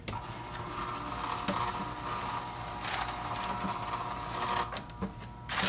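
An old-fashioned electric ice cream maker motor runs with a steady mechanical whir and hum, loud and close, with brief clicks and bumps as the churn works against packed ice.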